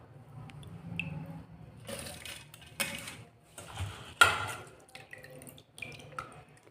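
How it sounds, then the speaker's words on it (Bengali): Soaked rice is scooped into the jar of a mixer grinder, giving wet squishes, drips and several sharp clinks of spoon and jar at irregular moments, close and fairly quiet. "মিক্সিতে আমি চালগুলো দিয়ে দিচ্ছি"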